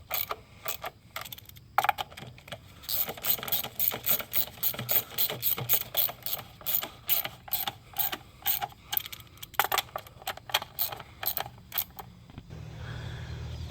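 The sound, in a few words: ratchet tightening valve cover bolts on Chevy Cruze engine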